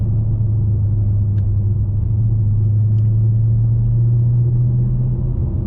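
Deep, steady engine rumble from a 2020 Dodge Challenger Scat Pack Widebody on a road, a loud sustained low drone with a constant hum and only slight rise in pitch, no talking over it.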